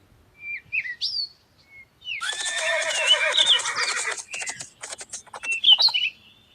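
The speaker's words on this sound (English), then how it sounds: "Horse." A horse neighs in a loud, shrill whinny lasting about two seconds, followed by a shorter, fluttering snort and a final high squeal, with faint bird chirps before it.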